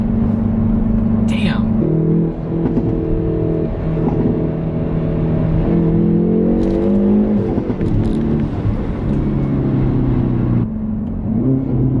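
Hyundai Veloster N pushed hard through corners, steady engine drone from inside the cabin with gear changes and rising revs, as a person talks over the noise throughout.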